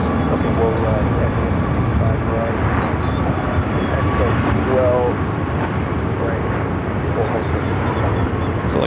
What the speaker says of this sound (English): We do have that Delta A350-900 coming in from Detroit.